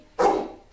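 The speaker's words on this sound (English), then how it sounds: "he's got to bark really excitedly" A dog being trained gives a single sharp, excited bark on command, loud and close, in a quiet room with no talking.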